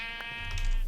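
A single sheep bleats in a video game, a clear wavering call over a low background hum.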